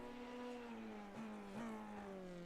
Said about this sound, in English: The car sounds fantastic, though, I must say.